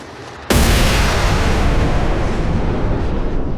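A grenade explosion in a Captain America motion comic bursts in suddenly after a short quiet lead-in, then roars on as a loud, sustained rumble that fills the rest of the moment without any voices.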